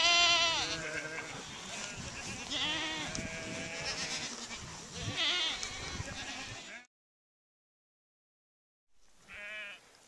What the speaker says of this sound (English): We have all the goats and the sheep.